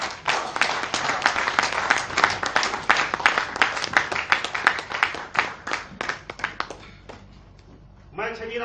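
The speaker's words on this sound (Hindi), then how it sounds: "जोरदार तालियां के लिए।" Audience clapping at a health awareness program on lifestyle diseases, a dense burst of hand claps that thins out and fades toward the end before a voice comes in.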